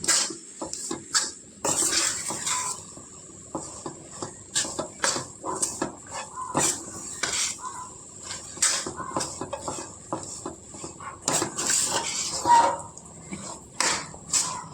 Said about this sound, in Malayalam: നമ്മൾ നല്ലതുപോലെ വഴറ്റണം